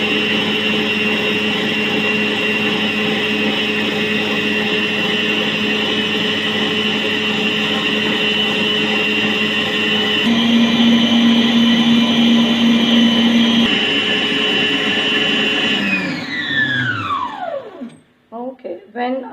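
An electric mixer whirs steadily as it beats egg whites while sugar is added gradually, its drone holding nearly constant for about sixteen seconds before the motor winds down and stops, followed by a few faint clicks.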